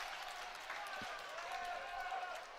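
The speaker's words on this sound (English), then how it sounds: "And fans give him a nice cheer for making a nice grab." A crowd of baseball fans at an Atlantic League game in a distant, faint wash of cheering and applause after a catch, under ongoing play-by-play commentary from announcers.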